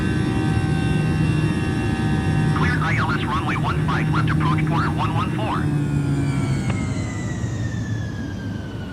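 Steady cabin engine roar of an Air Canada Airbus A320 in flight from Toronto Pearson to Orlando, a constant low drone filling the whole clip, with a brief warbling tone in the middle.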